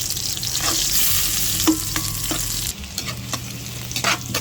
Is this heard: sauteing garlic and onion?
yes